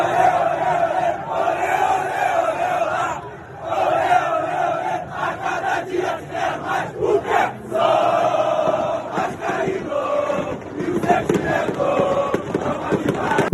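Football fans chanting loudly in a stadium, a dense rhythmic crowd chant that rises and swells continuously, close and powerful, with no talk over it.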